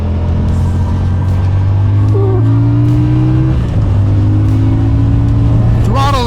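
CFMoto CLC 450 bobber motorcycle engine while riding, a loud, steady droning exhaust note that climbs in pitch, dips briefly, then rises again, with wind rush throughout.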